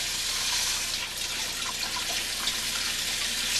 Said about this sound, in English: I'm going to basically fill this with water the best I can